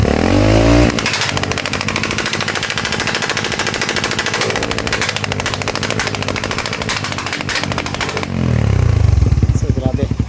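Suzuki Raider 150 carbureted motorcycle with an Apido exhaust pipe, revving hard with a rapid, machine-gun-like string of backfire pops lasting most of the clip, loud and close, with deep engine roar at start and end.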